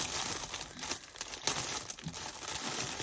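Stickers are peeled off dog subscription-box packaging close up, giving short crinkling, tearing rustles in quick uneven bursts.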